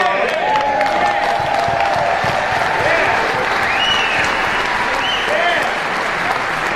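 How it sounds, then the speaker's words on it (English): Audience applause at a public address by a fired Atlanta fire chief, loud sustained clapping from a large crowd mixed with cheering and a few whoops, with overlapping voices calling out above it. "Give yourselves a round of applause."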